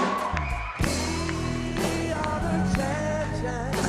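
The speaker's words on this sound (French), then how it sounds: "On peut les applaudir, nous ici, mesdames," A crowd in Paris cheers, whoops and shouts to welcome charity runners arriving after a 284 km run for the Téléthon, a dense, loud, continuous wall of voices and yells.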